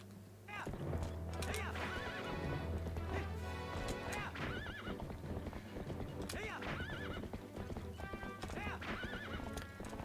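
A horse in the game Zelda Twilight Princess HD neighs repeatedly over rhythmic clip-clopping hooves, loud and continuous for about ten seconds, set against game music.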